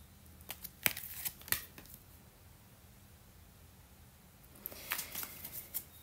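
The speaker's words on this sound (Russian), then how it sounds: "Выкладываем три карты, три позиции." Tarot cards laid out one by one for a three-card reading, giving soft, close slaps and rustles in two clusters separated by a quiet pause.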